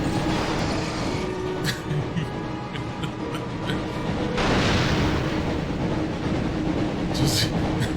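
A dense, roaring train sound in the PS1 game Harry Potter and the Chamber of Secrets swells midway with booming impacts over a constant loud rumble.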